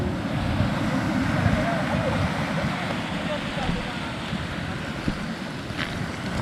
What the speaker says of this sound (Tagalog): Lakas ang alon no.